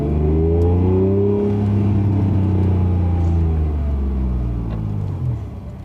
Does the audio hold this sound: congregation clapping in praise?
no